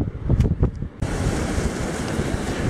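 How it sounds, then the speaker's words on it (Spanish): Strong wind at the seashore while fishing, gusting and buffeting the microphone over the roar of surf, loud and continuous after a brief rumbling start. "Tengo que poner la cámara de resguardo porque hay viento de espalda."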